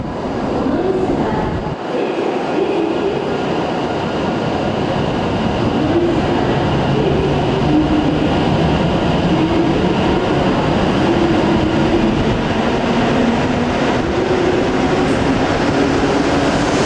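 A limited express train rumbles steadily nearby, a low continuous roar with a faint rising whine as it pulls away; no voices.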